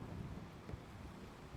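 Low rolling thunder mixed with rain and wind forms a steady storm ambience for a tabletop fantasy game, with a brief louder rumble midway and no talking.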